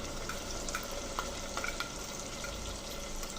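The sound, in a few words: masala frying for Malnad-style chicken curry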